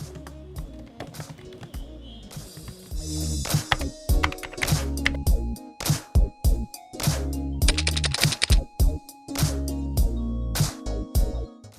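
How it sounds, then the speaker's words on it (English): Touch typing with all ten fingers on a computer keyboard: a steady, close stream of clacking keystrokes in quick irregular bursts, with heavier thumps now and then, continuing for about twelve seconds with no talk. "learn touch typing, which means to type using all 10 fingers without looking at the keyboard"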